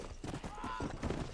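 Horse hooves clip-clop in the Red Dead Redemption video game as a rider gallops past someone, a quick rhythmic patter under someone talking and game noise.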